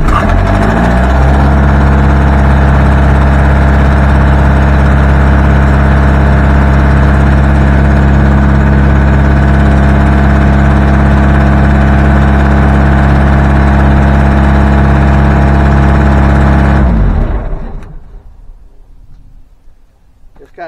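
A diesel engine used to heat a shop runs loud and close with a steady, deep idle for about seventeen seconds, then shuts off and leaves only faint background sound.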